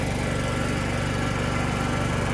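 Craftsman LT1000 hydrostatic lawn tractor fitted with a larger 6-inch drive pulley, running at speed around a block; a steady, loud engine drone with an even low throb that holds without a break.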